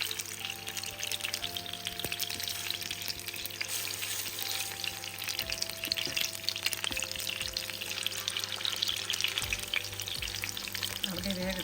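Turkish Adana kebab sizzling in a pan over medium heat, a continuous crackling fry with occasional stirring and scraping sounds, close and steady throughout with no talking.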